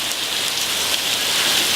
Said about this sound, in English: It's been raining like this for about an hour.